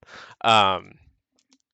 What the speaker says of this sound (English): wow, my keys are sticking